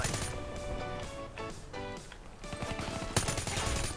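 Razorback submachine gun fire in Black Ops 3 multiplayer, rapid bursts of automatic shots crackling in quick succession with a steady loud game mix throughout.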